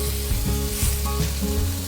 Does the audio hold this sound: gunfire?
no